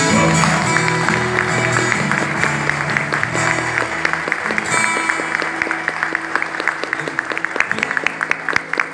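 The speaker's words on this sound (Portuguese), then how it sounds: "uma salva de palmas para Jesus" A church congregation claps steadily throughout, dense rhythmic applause that stays loud and close, with a few voices mixed in underneath.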